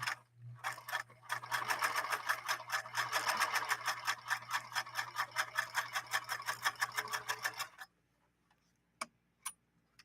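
A 1954 Canadian sewing machine stitches through six layers of denim with a rapid, steady, close clatter for about eight seconds. Then it stops dead, leaving a few faint clicks.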